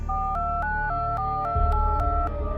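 A steady electronic telephone tone rings in repeating short pulses, a regular two-note trill with soft background hum beneath it.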